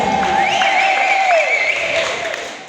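A gospel church congregation of women cheering and applauding, a broad loud wash of clapping and crowd noise with a sustained voice or whistle-like tone riding over it.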